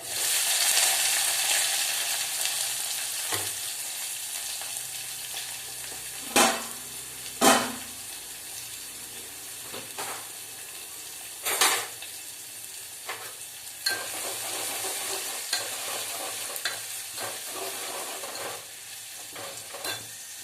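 Onions fry in a pan with a soft, steady sizzle, while a utensil stirs and scrapes against the pan in occasional sharp knocks and clinks spread across the stretch, with no speech.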